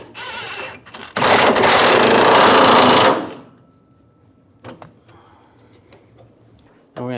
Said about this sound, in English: Get the nut started. I'll snug that down.